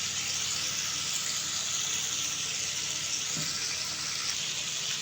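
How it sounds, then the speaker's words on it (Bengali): Pieces of pangas fish frying in hot oil give a steady, even sizzle that holds without a break, close and moderately loud, with no voices over it. "প্রত্যেকটা মাছ খুব ভালোভাবে ভেজে নিতে হবে"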